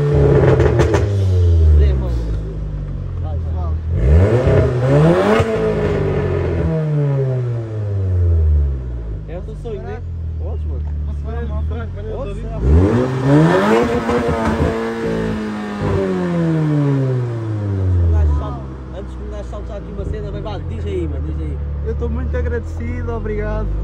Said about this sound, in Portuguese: o sonho dele é acelerar de Golf 7 GTI